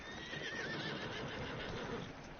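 A horse in Red Dead Redemption 2 gives a loud, drawn-out whinny over soft clip-clopping hooves and game ambience, with no talking.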